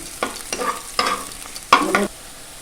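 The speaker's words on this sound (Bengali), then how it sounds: "এর মধ্যে আমি কিছু লঙ্কা কুচি দিয়ে দেব।" Onions with chopped green chili fry in a pan, with short bursts of sizzling and stirring scrapes in three or four separate strokes, close and moderately loud.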